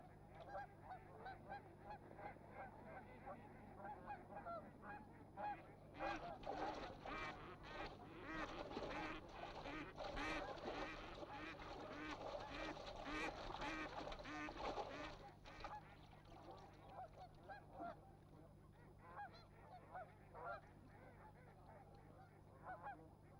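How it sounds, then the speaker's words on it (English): A flock of geese honks in a loud, dense chorus on the Toronto waterfront in November, rising to a busy peak midway before easing back to scattered calls. "The geese are here the year round."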